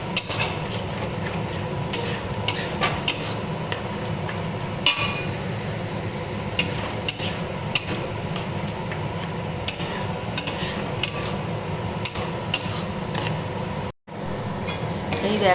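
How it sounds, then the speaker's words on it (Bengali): Bean mash seasoned with turmeric and salt cooks in mustard oil in a pan while a utensil stirs it, making continuous scraping, rubbing and clinking against the metal with occasional sharper knocks, close and steady throughout. "এই যে শিম ভর্তাটা দিয়ে দিয়েছি, এর মধ্যে একটু হলুদ আর একটু নুন দিয়েছি, দিয়ে এবার এটাকে একটু ভাজা ভাজা করব।"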